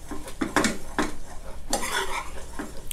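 Shrimp stir-fried in a salted egg sauce in a wok, with repeated scraping and clanking of a spatula against the metal in irregular bursts, close and fairly loud, over a faint sizzle.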